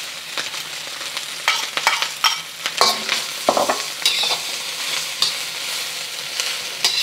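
Mushrooms, sausages and shrimp sizzle as they are stir-fried for sticky rice, with a steady frying hiss under intermittent scraping and clattering stirring strokes close by.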